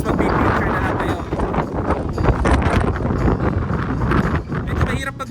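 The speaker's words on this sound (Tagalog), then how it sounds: "Kasi sobrang lakas talaga ng hangin." Strong wind buffets the microphone on a viewing deck in Ilocos Norte, a constant loud rumbling roar with gusty swells that never lets up.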